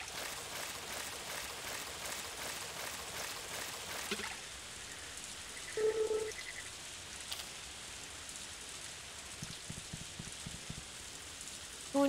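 Steady rain patters down in the farming video game Story of Seasons: A Wonderful Life, a constant close wash of drops with a rhythmic strummed guitar layered over the first third and brief chime-like game tones later.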